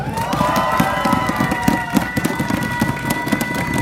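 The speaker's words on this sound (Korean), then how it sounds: "이럴 때 박수도 한번 치세요" Crowd applause at an outdoor campaign rally in Gunpo for a Gyeonggi education superintendent candidate: dense, sustained clapping with scattered cheers, loud and close, over a steady held tone throughout.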